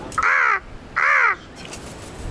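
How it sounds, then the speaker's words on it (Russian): Two loud, harsh crow caws close by, each about half a second long with a short gap between them, and no talking. "Я, конечно, хотела снять ворону, которая села на стол."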